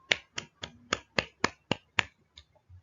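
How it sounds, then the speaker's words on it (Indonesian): A classroom claps for a student, about nine crisp, evenly spaced claps in a steady rhythm that trail off softly at the end, close and without talk. "Beri tepuk tangan pada Mbak Aziza kan."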